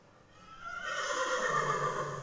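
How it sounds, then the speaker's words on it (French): A horse whinnies, comparing stallions with geldings and mares: a loud, harmonic neigh that swells after a quiet start and holds steady for over a second with a wavering pitch, heard alone. "le hennissement était une source d'informations multiples"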